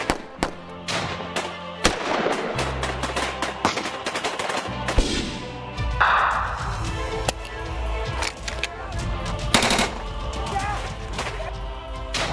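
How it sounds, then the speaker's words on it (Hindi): Gunfire crackles during an army operation near Rajouri in Kashmir, with repeated sharp shots and bursts scattered across the whole stretch, some close and loud, under faint voices. "हर तरफ गोलियों की तड़तड़ाहट"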